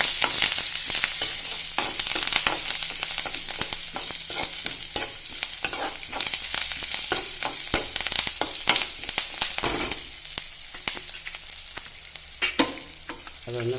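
Curry leaves fry in a pan of hot oil for vanpayar thoran, giving a dense, continuous sizzle and crackle broken by sharp pops and clicks of stirring throughout.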